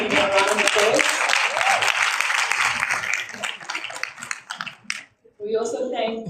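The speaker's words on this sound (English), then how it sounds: "let's give our leadership a round of applause" A university audience gives a round of applause for student leadership, loud dense clapping filling the room for about five seconds before a brief pause and a voice.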